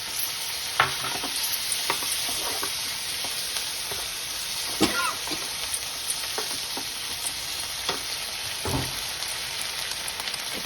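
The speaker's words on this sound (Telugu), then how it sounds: "ఇప్పుడు టమాటాలు వేసి" Tomatoes stirred in a hot frying pan while making tomato yogurt chutney, giving a steady close sizzle broken by scraping stir clicks and spatula taps, with no talking.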